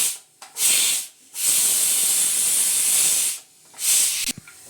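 Steam hisses out of a pressure cooker as pressure is released after two whistles while ragi mudde and bassaru cook, three loud bursts, the middle one long and sustained, separated by short gaps.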